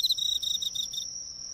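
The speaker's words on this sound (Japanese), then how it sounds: "コオロギ。" A cricket chirps steadily on an autumn night, a string of quick pulsing trills then a sustained high tone, close and clear with no voices.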